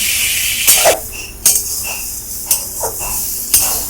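Ginger-garlic paste and green chillies frying in a pan for a Bengali bhetki curry, a steady hiss of oil punctuated by several sharp clinks and scrapes of a spoon against the pan, close and fairly loud, with no voices.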